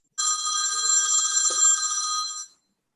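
A telephone rings in the middle of a council meeting: one continuous electronic ringtone lasting a little over two seconds, loud and close, with a brief low murmur partway through.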